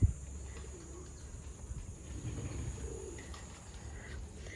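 Pigeons coo softly at some distance, low throaty calls rising out of a faint hiss of background noise.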